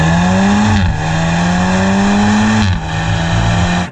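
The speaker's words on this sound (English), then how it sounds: "And now it's time to launch this car." A 2021 Audi S3 launches hard from standstill, its engine roaring loud and close as it rises steadily through the revs, dropping in pitch at each quick upshift around one and three seconds in.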